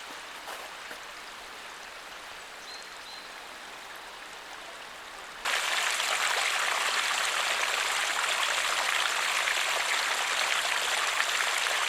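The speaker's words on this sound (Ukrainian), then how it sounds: "стоки з колекторів витікають прямо на вулицю" Storm sewage water pours from collectors onto a street, a steady broadband rushing that grows noticeably louder and denser about halfway through, with no voices.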